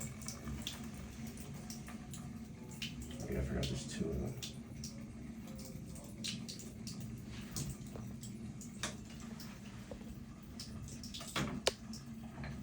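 Water draining from a shower during plumbing repair work, a faint, steady trickle and gurgle under occasional clatter of tools, with people talking nearby.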